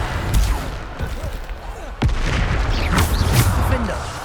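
Repeated booming blasts of the Bombarda spell in the video game Hogwarts Legacy, loud and close, with a sharp impact near the middle amid continuous rumbling combat noise; a voice speaks over the action.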